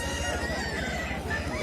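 Desi Aseel roosters at a busy open-air chicken market in Odisha cluck and call continuously, with crowd hubbub in the background.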